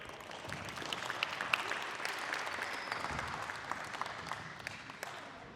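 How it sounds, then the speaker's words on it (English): Faint, steady round of applause from attendees at a basketball coaches clinic, soft and distant across the whole stretch. "Give them a round of applause, that was pretty good"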